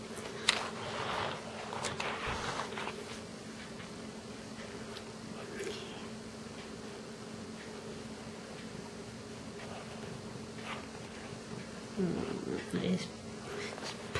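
A close, steady low purr from a cat getting a back rub rumbles continuously, with soft rustles and a few light taps around it and a brief louder patch near the end.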